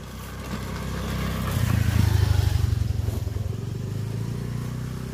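A scooter passes along a forest road near Kovilmala, its engine drone swelling to a peak around the middle and then easing away, moderately loud against the outdoor background.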